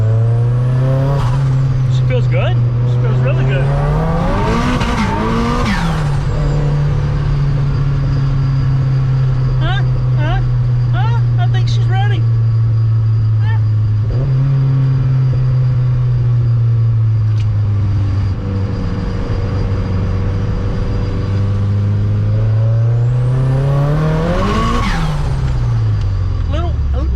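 A turbocharged car with a turbo leak pulls hard from inside the cabin, its loud engine drone rising and falling through several throttle surges with a brief tire spin. People talk over the steady engine note.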